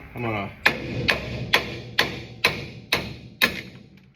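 Eight sharp metallic hammer blows knock out a car wheel stud in a steady rhythm, close by, each ringing briefly before the next strike.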